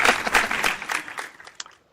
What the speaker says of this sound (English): still had to give some applause for it